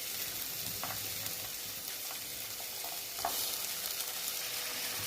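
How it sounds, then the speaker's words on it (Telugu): Beetroot pieces frying in a pan make a steady, even hiss of sizzling oil with a few faint stirring knocks, heard close up with no voices. "ఫ్రెండ్స్ చూడండి, ఇలా బీట్రూట్ని వేసాం కదా, ఇది కొంచెం ఫ్రై అయిన తర్వాత"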